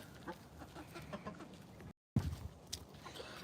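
Backyard chickens clucking softly at close range, scattered short calls over quiet outdoor ambience, briefly cut out midway before resuming.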